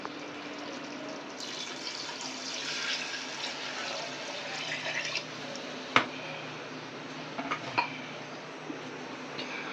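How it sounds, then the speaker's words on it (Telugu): Water pours steadily into a pot for cooking rice with a soft continuous rush, quiet and close, with a few small knocks and splashes near the end. "ఫస్ట్ అయితే నీళ్ళు పోసేసుకుంటా"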